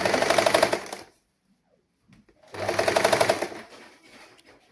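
Sewing machine stitching a saree blouse sleeve, two bursts of rapid close mechanical needle chatter about a second each, separated by a quiet pause with faint fabric handling.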